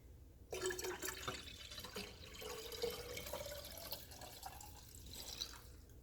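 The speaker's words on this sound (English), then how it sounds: "now I'm going to combine it with 4 cups of whole milk" Whole milk pours into a horchata rice mixture as a steady, faint liquid stream that begins after a moment of quiet and continues evenly to the end, soft and close.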